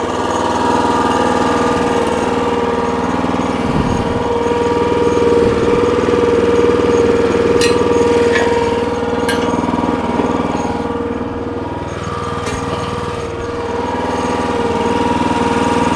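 The engine of a Red Rock Trencherman mini towable backhoe runs steadily at a loud, close idle throughout, with a constant low hum, a few faint clicks, and slight shifts in pitch.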